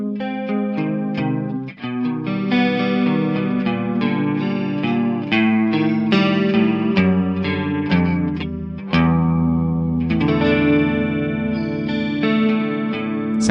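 Electric guitar runs through a Joyo Future Chorus pedal, playing a flowing line of chords and single notes with a shimmering, wavering 80s-style chorus. Loud and close throughout, with a short dip partway, and no talking.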